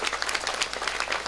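An audience at an Islamic religious gathering applauds the organising committee of Dukuh Banjaran, a brief burst of brisk, lively clapping, close and fairly loud, with no talk over it.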